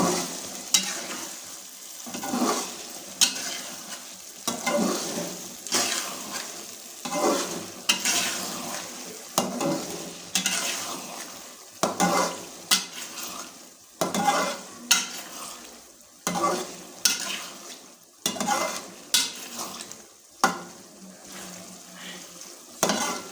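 Okra (bhindi) frying in a pan is stirred gently with a spatula, producing repeated scraping strokes in a loose rhythm over a steady background sizzle, close and fairly loud.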